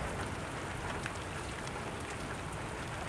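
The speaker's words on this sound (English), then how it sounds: "Just know it's nature and rain." Steady rain in Kentucky pours down outdoors in a dense, even hiss of drops hitting surfaces, loud and continuous, with no one talking.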